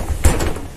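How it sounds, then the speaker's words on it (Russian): Doors of a BKM 333 trolleybus in Minsk closing at a stop, a short near thud with a brief mechanical rumble inside the passenger cabin, no talk. "Осторожно. Двери зашиняются."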